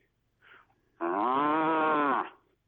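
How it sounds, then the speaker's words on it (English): A cow gives one long, loud moo lasting over a second, preceded by a brief fainter low call, heard close in an outdoor farm setting with no talking. "That would be the cow."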